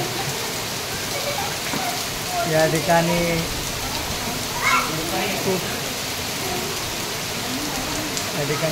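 First monsoon rain falling in Konkan, a steady, dense hiss of drops that continues throughout while someone talks over it.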